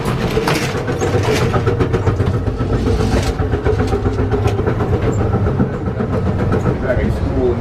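Steady rumbling train noise with continuous rail clatter and rhythmic clicking, loud and close, heard from inside a moving carriage of the Amtrak Empire Builder.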